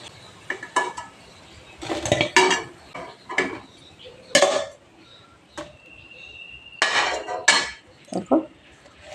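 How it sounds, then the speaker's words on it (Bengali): Sweet potato pantua being lifted out of a frying pan after deep-frying, with scattered metallic clinks and scrapes of a utensil against the pan in short irregular bursts, close and moderately loud, no talking. "সব লাল লাল করে ভেজে নিয়েছি তুলে নিচ্ছি"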